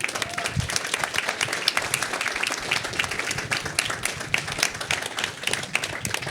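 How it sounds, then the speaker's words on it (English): Sustained applause from an audience for a hospitality industry panel, dense steady clapping filling the whole stretch at an even loudness. "Could we get a round of applause for the panel?"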